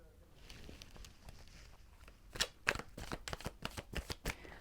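A deck of tarot cards is shuffled close by, giving a burst of quick riffling slaps and soft flutters that grow busier in the second half, with faint room noise beneath.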